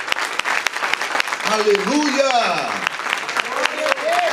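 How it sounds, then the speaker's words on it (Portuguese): A church congregation claps and cheers together in sustained lively applause, with a preacher's voice shouting praise over the clapping. "Libere uma salva de palmas bem alegre ao nome de Jesus."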